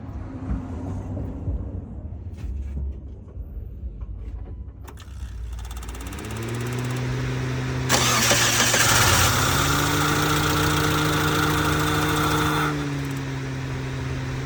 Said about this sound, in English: Let's see if this car starts.